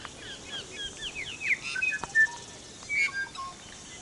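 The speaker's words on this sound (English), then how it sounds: "There wasn't much wind, and our feathered friends were singing." Birds sing in New Zealand on a calm day, several bright chirps and whistled phrases trading back and forth, close and clear over a quiet background with no voices.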